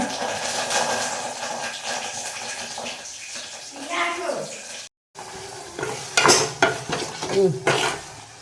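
Tempering spices sizzling in a hot pan for avalakki (flattened rice), with stirring and clanks of utensils, a short gap midway, then louder sputtering and scraping.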